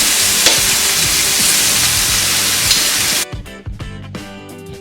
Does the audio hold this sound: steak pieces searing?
yes